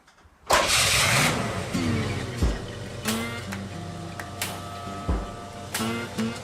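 A 1978 Pontiac engine cranks and catches, then settles into a steady idle with rattles and clunks from the old car, heard up close with no talking.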